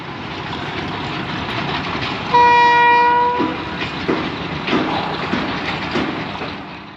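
A train passes through a railway crossing at a rural station, its loud rumbling wagons and clattering wheels running throughout, with a strong horn blast sounding for about a second midway.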